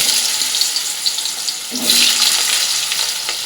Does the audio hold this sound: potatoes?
yes